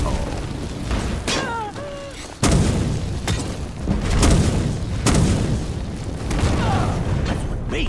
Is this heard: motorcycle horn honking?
no